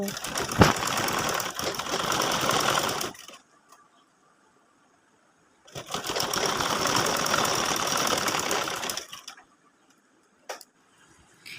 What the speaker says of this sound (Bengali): তো দেখতেই পাচ্ছেন কীভাবে আমি সেলাই বসিয়ে নিচ্ছি